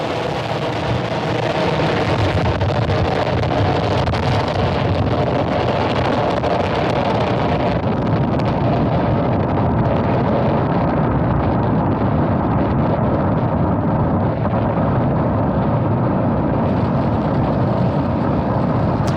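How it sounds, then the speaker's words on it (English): A SpaceX Falcon 9 rocket in flight after a night liftoff from the pad produces a continuous, loud broadband roar with rumbling and crackling. It stays steady throughout, with a wind-like texture and no talk. "It is dark, but we can definitely hear Falcon 9."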